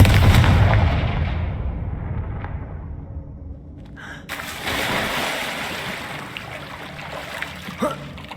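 Confringo fire spell cast in Hogwarts Legacy, a loud explosive burst that decays into a long rushing rumble, followed by a sharp crack and a further blast, with game effects continuing underneath.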